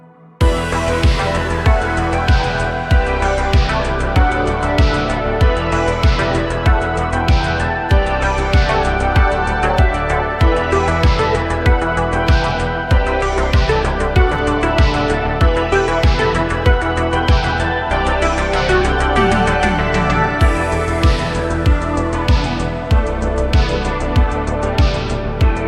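A driving synthwave section built on a U-He Repro 5, with pulsing bass, steady punchy drums and repeating resonant synth sweeps gliding downward over the beat, loud and continuous throughout.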